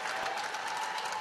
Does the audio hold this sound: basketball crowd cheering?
yes